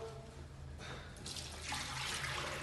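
Water running from a tap during a Falcon Sloan urinal adapter retrofit, a steady hiss that swells louder after the first second and keeps flowing with no speech.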